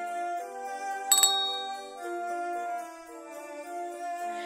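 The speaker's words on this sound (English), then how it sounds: "As he rang the bell" A single bright bell ding rings out briefly and close, layered over a soft, sustained musical backing.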